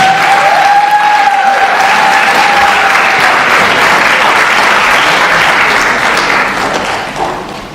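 Sustained applause from a crowd at a high school science fair awards ceremony honoring top winners, loud and continuous, with a brief tonal voice at the start, tapering off near the end.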